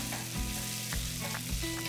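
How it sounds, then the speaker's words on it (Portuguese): Flour sizzles and fries in a non-stick pan while a shrimp fricassee is being made, a steady close crackle with a few soft scrapes of stirring. "Espalha aqui para ele dar aquela fritadinha, vai ganhar cor e sabor."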